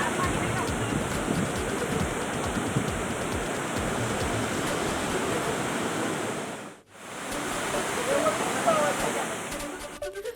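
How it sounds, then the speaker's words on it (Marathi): Monsoon waterfalls pour down the rocky slopes of Raigad fort in heavy rain, a loud, dense, continuous roar of rushing water that dips briefly to near silence before resuming. "मुसळधार पावसामुळे डोंगर कपाऱ्यांमधून धो-धो कोसळणारे हे धबधबे"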